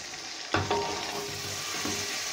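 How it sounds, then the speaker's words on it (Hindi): Ginger, garlic and coriander powder frying in a pan over a medium flame, a steady close sizzle with a couple of sharp stirring knocks and scrapes near the start. "इसको अदरक लहसुन के साथ 2 से 3 मिनट तक हम फ्राई करेंगे"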